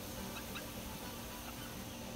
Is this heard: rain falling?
no